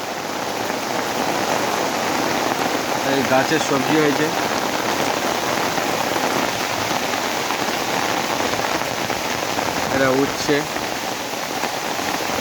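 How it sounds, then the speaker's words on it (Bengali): Heavy, steady rain pours down near a pond bank and vegetable garden, a dense continuous hiss throughout, with a person talking over it now and then. "কী হারে বৃষ্টি হচ্ছে"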